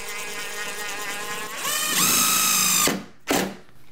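Cordless power drill driving a long screw into a door hinge: the motor whirs steadily, then rises to a louder, higher pitched drive before stopping abruptly, followed by a short final burst. Nearby and loud, with no talk.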